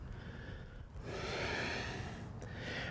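A long, steady exhale during a yoga flow, sweeping back from upward dog, rising into a soft, airy rush that holds for about two seconds after a brief quieter breath.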